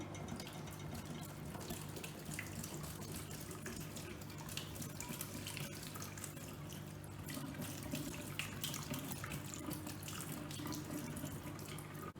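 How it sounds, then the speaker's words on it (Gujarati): Homemade paneer being rinsed under a running kitchen tap: a soft, steady stream of water splashing into a sink, continuous and fairly quiet with no talking. "પછી એના ચોખ્ખા પાણીથી ધોઈ નાખવાનું એકદમ પનીરને"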